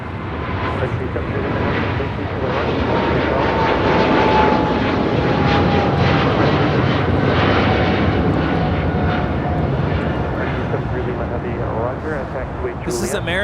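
An American Airlines Boeing 777-300ER takes off from LAX bound for London Heathrow with a loud, sustained jet roar that swells and holds steady. A voice talks over the engine noise.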